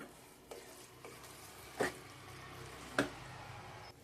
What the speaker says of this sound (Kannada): ಸ್ವಲ್ಪ ಮಸಾಲೆ ಎಲ್ಲ ಹೊಂದ್ಕೊಳ್ಳೋವರೆಗೂ ಮಿಕ್ಸ್ ಮಾಡ್ತಾ ಇರ್ಬೇಕು